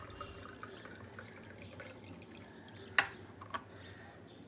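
Mixed hot and cold water is poured into a container at home, making a faint, steady trickle with a couple of sharp clinks near the end.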